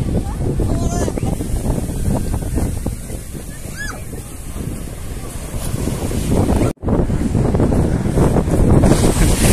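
Heavy wind buffets the microphone over a continuous rumble of sea surf on a beach at Digha, with waves washing in loudly and briefly cutting out once near the end.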